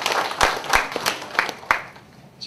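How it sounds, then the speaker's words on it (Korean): A handful of sharp, separate claps from an audience at a political lecture ring out in a loose rhythm, then trail off into quiet. "다시 한번 박수 한번 쳐주십시오"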